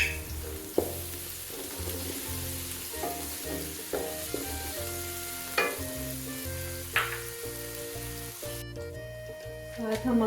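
Onions frying in oil in a home kitchen as ginger garlic paste is stirred in for a chicken vegetable salan, a steady close sizzle running under light background music.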